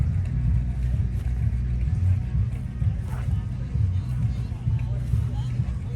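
A 1948 Allis-Chalmers WC antique tractor rolls by in a tractor show parade, its engine a steady low rumble under faint crowd murmur.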